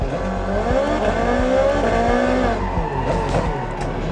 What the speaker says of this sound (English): The little backfires, I haven't gotten sick of that yet.